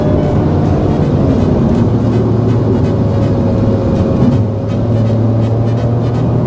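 Cabin engine noise of a Ford Focus Wagon MK4.5 in sport mode with the exhaust valve open, a loud constant low hum and road rumble with a slight dip near the end, no talking.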